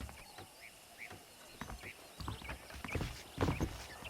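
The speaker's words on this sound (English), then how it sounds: "The horses are saddled up over here." Horse hooves clip-clopping in the Red Dead Redemption video game, a run of short hoof hits that grows louder and busier toward the end, with game ambience underneath.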